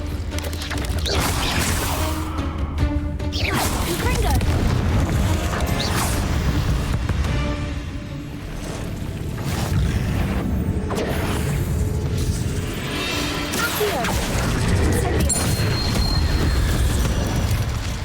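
Confringo blasting spells from Hogwarts Legacy going off in a dense, continuous run of booming explosions and crashing impacts, loud and close, with creaking mechanical game sounds mixed in and no talking.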